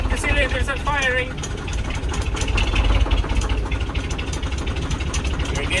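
A KAMAZ 6x6 truck engine idles roughly after a cold start in freezing conditions, with a steady loud low rumble and uneven pulsing, while people talk over it.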